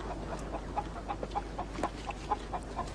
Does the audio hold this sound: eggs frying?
no